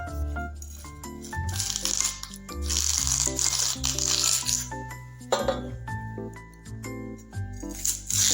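A knife cuts and scrapes through banana tree bark at close range, crisp crackling and rattling strokes coming in irregular bursts with no talk over them.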